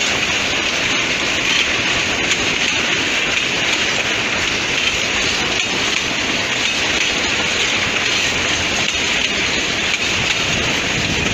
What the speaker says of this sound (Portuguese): Esse é outro trem de vagão, né?